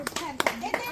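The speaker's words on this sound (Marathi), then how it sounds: "आता बघा, टाळ्या टाळ्या" A few quick hand claps break out at a lively family game at home, short sharp bursts under excited talking and a voice.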